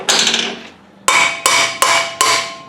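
A hammer strikes metal five times, ringing sharply; the first hit decays slowly before four quick, evenly spaced blows follow.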